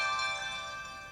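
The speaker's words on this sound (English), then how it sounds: "oh, that's the phone coming on." HTC U Ultra Sapphire phone powering on, a brief bright tonal startup chime that fades out gently, heard alone and fairly quiet.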